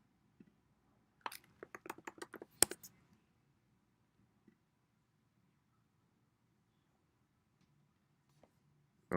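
Quick burst of computer keyboard typing entering a search query, a rapid run of close clicks lasting about two seconds, then near silence with a couple of faint taps.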